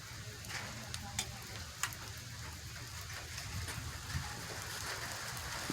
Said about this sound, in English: Here comes the heavier rain